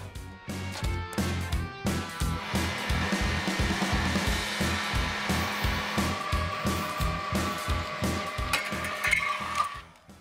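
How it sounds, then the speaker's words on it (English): A heat gun warms the molding on an abandoned Chevy Silverado truck bed, giving a steady blowing roar broken by a quick, regular series of close clattering pulses, with no talking. "we'll use a heat gun to apply a little bit of heat to the molding"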